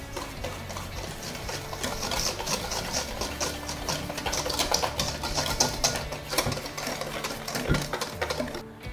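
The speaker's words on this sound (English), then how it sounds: "And we're going to give this a whisk." Sugar and cornmeal being whisked in a bowl for a Mexican-style chilli cheese cornbread: a fast, steady run of close clicking and scraping that continues for the whole stretch, with no voices.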